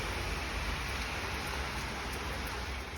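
Rain falling steadily outside a small shop in Thailand, a dense, even hiss without any voices.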